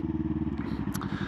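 Yamaha R3 motorcycle cruising on a highway, its engine a steady rhythmic low drone with harmonic pulsing, close and loud, with light wind noise and no talk.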